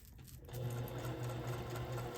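A sewing machine stitches a fabric potholder, its motor starting up and running in a steady close mechanical whir.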